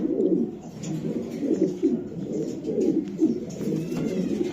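Racing pigeon cooing close by in repeated low, throaty rolls, a steady murmuring run of coos with no talk.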